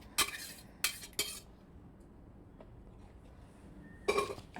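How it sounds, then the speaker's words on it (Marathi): Pav bhaji of mashed vegetables in butter being stirred in a pan: a few sharp spoon scrapes and clinks near the start and again near the end, with quiet gaps between. "आता हे सर्व मिश्रण छानपैकी हलवायचे आहे."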